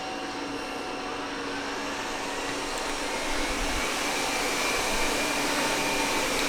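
A Xiaomi Mi Robot Vacuum Cleaner 2 Pro runs in turbo mode, a dense, steady rushing whir that holds constant throughout and swells slightly toward the end.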